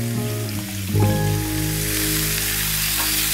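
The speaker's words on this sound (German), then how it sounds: "Und jetzt braten wir das rundherum von allen Seiten, bis der Speck schön knusprig ist" Bacon-wrapped potatoes frying in a pan: a steady, bright sizzle kicks in after a brief moment and continues evenly and fairly loud to the end.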